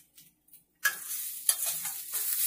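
Grated coconut and cashews sautéed in a pan for vegetable kuruma: after a near-silent start, a sudden close sizzle with stirring scrapes rises and holds steady, with no talking.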